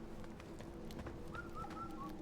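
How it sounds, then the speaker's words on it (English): A bird in a video game gives a soft, quiet series of short whistled coos over a low ambient game background. "I can hear one of them fucking birds."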